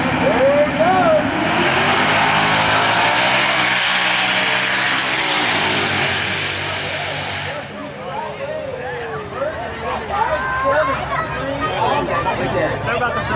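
A Dodge Hellcat accelerates hard down a drag strip at a street car takeover event in Houston, a loud sustained engine roar fading away as crowd chatter and cheering take over.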